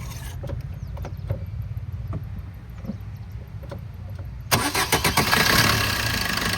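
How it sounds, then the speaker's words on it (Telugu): A Maruti Suzuki Vitara Brezza ZDI diesel, a 2016 model, sits quietly for several seconds with faint clicks before the engine cranks and catches on a single start, settling into a loud, steady diesel idle. "ఒకసారి ఇంజన్ ఆన్ చేయండి"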